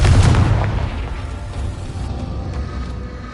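Confringo blasting spell explosion in Hogwarts Legacy, one loud booming blast at the start with a deep rumble that slowly decays and lingers, alone without talk.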